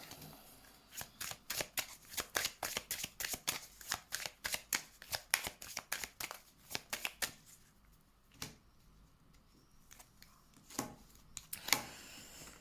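Tarot cards shuffled by hand in rapid close bursts of riffling slaps for several seconds, then a pause and a few scattered flicks and taps.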